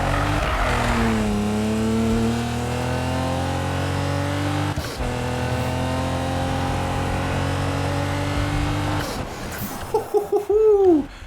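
A 2017 Nissan GT-R engine in the racing game Need for Speed 2015 revs up and holds a deep, grumbly drone close up, dipping once midway, then shifting and fading into tire and driving noises.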